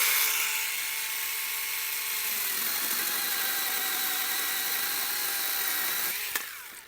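A Procraft PKA16 cordless mini chainsaw runs at a high, steady electric whine, with its pitch sagging slightly as it bites into wood, then a brief clunk before the motor winds down at the end.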